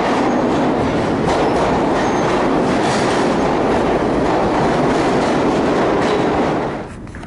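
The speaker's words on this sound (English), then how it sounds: "Oh, there goes the A. That's an express. It's not going to stop." An A express train on the New York City subway rushes through a station without stopping, a loud, close roar of wheels and clattering rail noise that cuts off sharply as the last cars pass.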